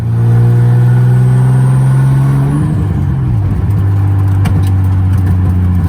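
A 240 car is driven with its engine revving loudly and close by. The rising, steady drone drops in pitch partway through, and a few sharp pops break in near the end.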